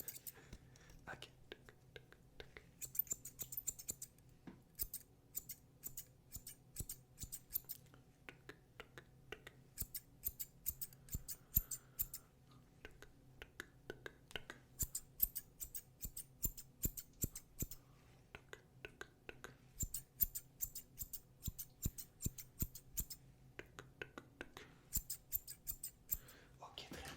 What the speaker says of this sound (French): j'ai besoin de faire les deux ciseaux en même temps